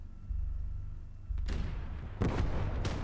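Artillery fire in Gates of Hell: Ostfront on an open Finnish field, three heavy booming blasts in succession over a low engine drone, each with a sharp crack and rolling low tail, moderately distant.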